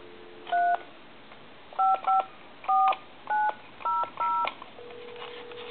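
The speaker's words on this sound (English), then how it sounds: "I'm going to call, like, say, a time and temp number." A telephone converted from a wooden wall phone dials out on a regular line, producing seven crisp touch-tone beeps in an uneven sequence, then a faint steady ringback tone at the end.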